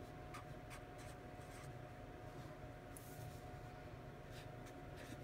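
A medium point marker writes on a spiral notebook page in a series of short scratchy strokes, close and fairly quiet over a steady background hum.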